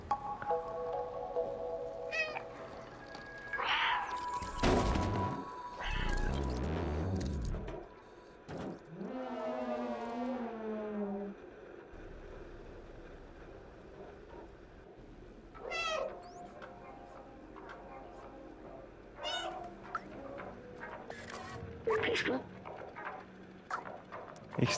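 A cat meows in the Stray video game while the player talks over it, with several rising and falling meows of varying length among game ambience, fairly close and clear.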